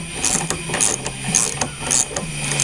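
Two metal halves of a 7.3L Powerstroke diesel fuel injector are screwed together by hand, giving a run of small metallic clicks and thread scrapes close by over a steady workshop hum, with no talking.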